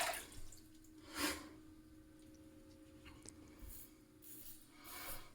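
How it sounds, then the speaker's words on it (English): A Yaqi Final Cut adjustable double edge razor shaves along the neck and under the jawline, giving a few soft, brief scraping strokes at close range in an otherwise quiet room. "I'm being quiet so that we can hear the blade"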